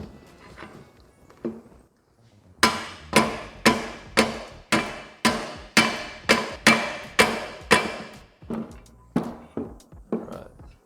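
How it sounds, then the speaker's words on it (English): A mallet whacks a socket to drive a ball joint into place, a steady run of about fifteen sharp, loud blows at a brisk, even rhythm, preceded by a couple of lighter taps. "grab a mallet, and we're just going to start whacking it in."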